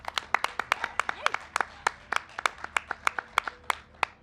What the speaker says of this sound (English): Round of applause for Melissa.